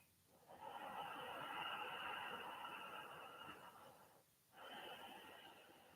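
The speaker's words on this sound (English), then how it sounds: "you could find Ujjayi pranayama, ocean sounding breath" Slow, audible ujjayi yoga breaths through a constricted throat, a long airy rush like ocean surf, pausing briefly before another breath begins.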